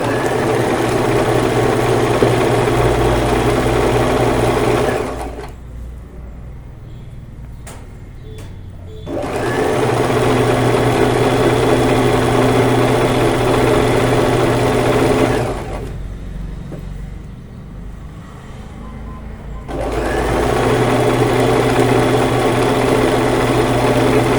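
An electric sewing machine stitching straight pants at high speed, a loud steady whir in long runs that stop abruptly twice for several seconds of near quiet before starting again.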